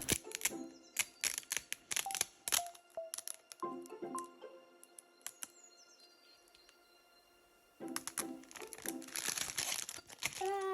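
White backing sheet is peeled off vinyl lettering on a concert bag, producing bursts of close crinkling and crackling plastic, with a quieter lull midway before the rustling resumes densely.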